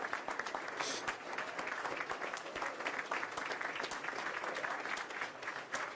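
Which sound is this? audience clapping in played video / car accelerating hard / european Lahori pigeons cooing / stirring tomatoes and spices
audience clapping in played video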